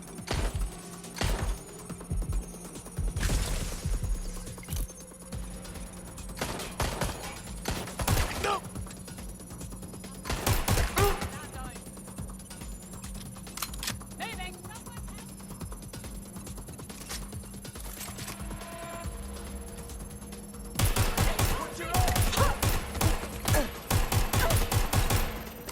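Gunfire in the video game Watch Dogs Legion, with repeated sharp bursts and rapid volleys scattered throughout, some clustered densely, over lower background game sounds.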